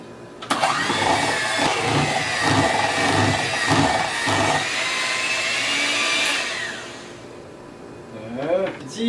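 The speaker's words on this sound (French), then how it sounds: "je vais être obligé de finir ça avec la mixette" An electric hand mixer whirs loudly through pumpkin muffin batter, a steady buzzing motor with rhythmic pulses as the beaters work, stopping near the end; a voice is faintly present.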